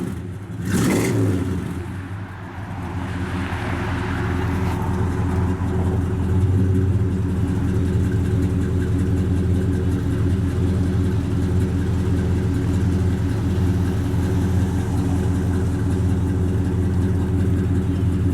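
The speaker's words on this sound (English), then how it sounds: "Got a nice set of dual exhausts with some Flowmasters. Sounds good out the exhaust." A 1964 Buick Skylark V8 with dual Flowmaster exhausts fires up with a sharp burst, then settles into a deep, throaty idle rumbling steadily from close by.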